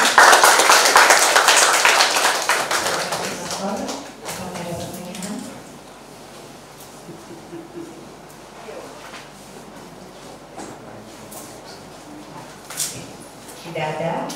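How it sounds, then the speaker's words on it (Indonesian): Applause from an audience at a Catholic scripture course talk, a dense burst of clapping for the first few seconds that fades into quieter room sound, with a short flurry of claps again near the end. "Kita beri aplaus kepada"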